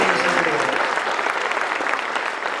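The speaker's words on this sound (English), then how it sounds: "let's give him one more great big clap." A church congregation claps loudly and steadily through a dense burst of applause that tapers off slightly toward the end.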